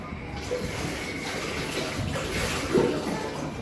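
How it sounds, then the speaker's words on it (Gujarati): Cold water poured onto freshly boiled homemade wheat flour noodles, a steady close splashing gush with a brief louder splash near the end, no talking. "હવે હું એમાં ઠંડુ પાણી એડ દઈશ એટલે મારી ચડવાની પ્રોસેસ બંધ થઈ જશે"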